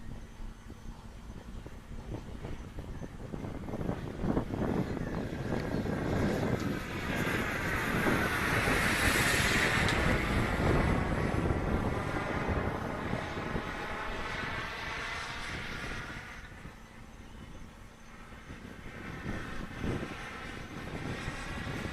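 A fixed-wing plane flies a circuit, its engine drone building steadily to a loud, close pass in the middle and then fading as it moves off, with wind noise throughout.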